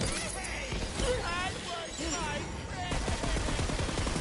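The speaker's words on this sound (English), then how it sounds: "if you just listen to it, the gun's shooting so many free bullets" Rapid bursts of gunfire from a gun in the video game Tiny Tina's Wonderlands, firing in dense continuous volleys with a voice talking over it throughout.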